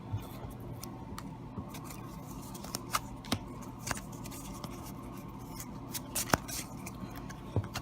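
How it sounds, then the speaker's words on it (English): Opening a Pokemon TCG BREAKpoint card pack: quiet, close crinkling and small sharp snips and ticks of foil wrapping being worked open, scattered irregularly over a low steady background. "I'm gonna go ahead and crack open this pack here"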